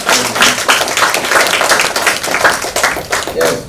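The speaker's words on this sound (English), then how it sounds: "Clap for mistakes." Audience clapping at a children's parliament inaugural session in Ogun State, a steady, dense patter of hands filling the room for several seconds, with voices mixed in underneath.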